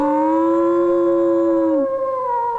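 A dog lets out one long, loud, sustained howl that slides down in pitch at the end, close and alone, used as an eerie ghost-story effect.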